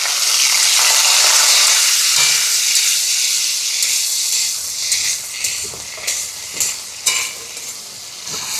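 Onion, dried chilli, peanuts, garlic, tomato and dal fry together in a pan with a loud, bright sizzle and hiss, joined in the second half by a series of rhythmic stirring scrapes.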